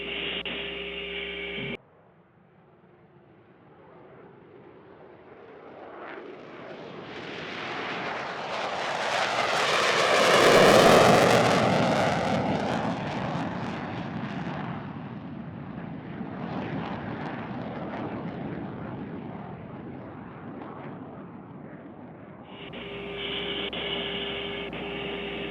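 An airplane takes off and climbs away. A broad engine roar swells to a loud peak near the middle and then slowly eases off, heard up close and continuous with no talking.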